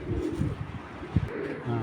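Soft, low racer pigeon coos close by, a few throaty murmuring calls in quick succession.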